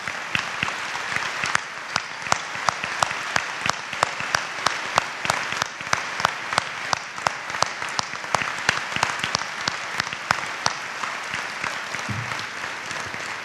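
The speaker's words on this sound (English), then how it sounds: "let's give them a round of applause at this time" An audience at a high school Veterans Day ceremony applauds the veterans, a dense, sustained round of many people clapping with sharp individual claps standing out over roughly thirteen seconds.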